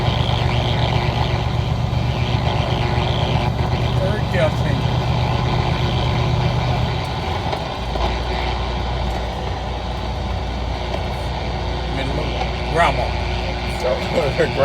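Semi truck diesel engine running steadily after a downshift into third gear during a big-rig ride, a loud low drone that drops to a deeper rumble partway through, with talk over it.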